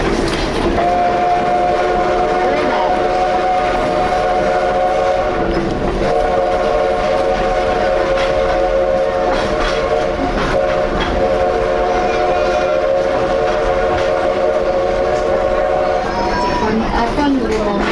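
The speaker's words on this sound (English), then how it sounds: "A fun little memento called the 1880 train." 1880 Train steam train running in the Black Hills, a loud steady rumble of wheels and rail clatter with a sustained whistle tone held for most of the passage, voices audible beneath.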